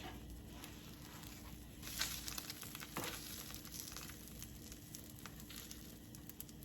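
Eggs frying in egg rings in a pan, giving a faint, steady sizzle with light crackles and a couple of small knocks, quiet and without talk.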